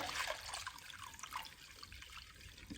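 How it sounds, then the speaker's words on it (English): Warm water, 500 grams of it, pours into a sourdough bread mix with rosemary, making a faint, steady trickle throughout. "And I'm now going to add 500 grams of warm water."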